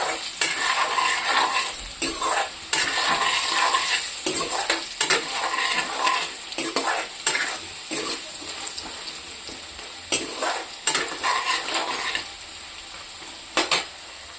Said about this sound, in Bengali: আলুটা একটু ফ্রাই করে নিই